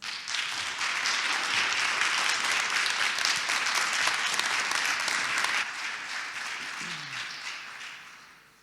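Loud, dense audience applause welcomes a speaker onto the TEDxUTN 2021 stage, a steady wash of clapping that holds strong for several seconds, then thins and fades near the end.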